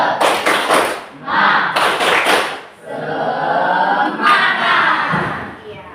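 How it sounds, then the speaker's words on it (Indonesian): A classroom group performs the rhythmic spirit clap (tepuk semangat) in bursts of quick claps, interleaved with loud chanted voices, close and energetic. "Masih ingat dengan tepuk semangat? Tepuk semangat."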